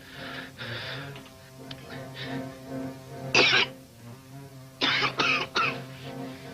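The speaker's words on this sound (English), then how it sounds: "He's been coughing that way since he came in here." A man coughs several times in short, harsh bursts, first a single cough, then a rapid cluster, close by in a quiet room.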